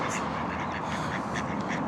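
A small flock of ducks at Wetwang village pond in East Yorkshire quacks busily and close by, overlapping calls over outdoor ambience with a voice faintly present.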